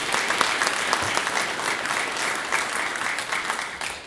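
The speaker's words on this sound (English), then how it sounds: "please give them a round of applause" Steady audience applause fills a township address hall, dense and continuous clapping from a sizable crowd without speech.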